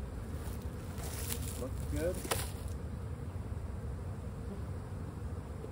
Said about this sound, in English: Plenty of bees on it.